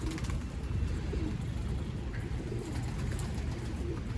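Pigeons cooing softly over a steady low rumble, their gentle repeated calls blending into continuous background noise.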